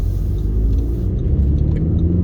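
2017 Audi Q3 S Line 2.0 TDi manual cruising over a bumpy road, heard from inside as a steady, loud low rumble of engine and road noise without any voices.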